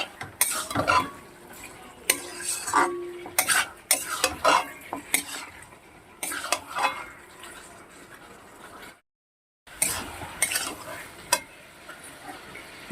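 Chicken is stirred and fried in a pot, with metal spoon clatter and scraping against the pot over a low sizzle, in irregular bursts with a brief silent gap before the stirring resumes.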